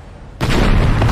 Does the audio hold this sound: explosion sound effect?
yes